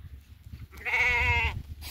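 A single goat bleats nearby at a farmstead on a cold morning, a short wavering cry standing out over a quiet, low rumbling background.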